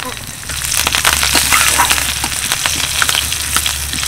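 Mustard seeds, a pinch of hing, curry leaves and chopped green chillies sizzle in a little white oil in a kadai, a dense, steady crackle with scattered pops and a low hum underneath.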